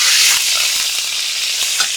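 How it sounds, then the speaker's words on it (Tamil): Loud, dense sizzling as curry leaves hit hot oil while beef brain masala is cooked, a close bright hiss with scattered crackles that stays strong throughout. "அடுத்தது வாசனைக்கு கருவேப்பிலை சேர்த்துக்கலாம்"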